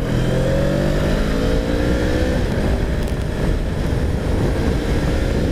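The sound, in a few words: Honda Rebel 500 twin-cylinder motorcycle accelerating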